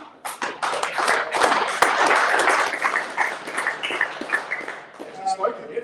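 An audience applauds at a young auctioneer competition prizegiving, steady dense clapping that swells and then thins, with people talking over it.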